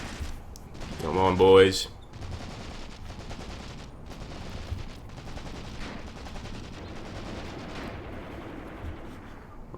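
Gunfire crackles from WW2 infantry in the game Graviteam Tactics: Mius Front, with a loud burst early and then scattered distant shots rattling on. Someone speaks briefly at the start.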